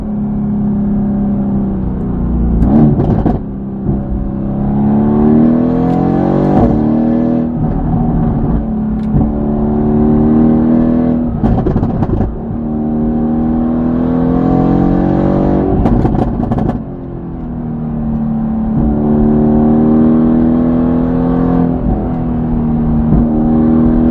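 A Mercedes AMG GT-R fitted with an FI catback exhaust revs hard and continuously, its loud engine note climbing and falling in repeated sweeps with sharp crackles between pulls.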